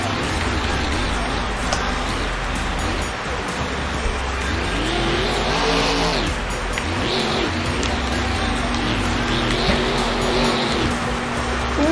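The Monster Mutt monster truck's engine roars and revs loudly at a Monster Jam freestyle show in an arena, a steady, dense drone with rising surges and crowd noise blended in.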